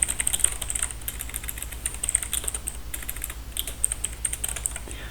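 Typing a paragraph on a computer keyboard, a close stream of fast, light key clicks in uneven bursts with brief pauses, and no voice over it.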